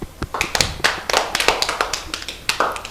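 Audience at a television episode with little champions clapping in a loose, uneven rhythm of sharp, close hand claps that keeps going, with no voices over it.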